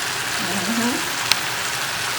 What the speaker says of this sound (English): We're just getting that brown color on it right now. It smells amazing. It's sizzling.